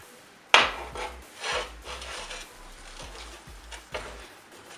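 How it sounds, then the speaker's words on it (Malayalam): Rice flake and potato dough being kneaded by hand in a bowl: one sharp knock at the start, then soft, repeated rubbing and pressing sounds with faint thuds, close and quiet, without any talking. "നല്ല ടൈറ്റായിട്ടുള്ള മാവാകുന്നത് വരെ നന്നായിട്ട് കുഴയ്ക്കണം."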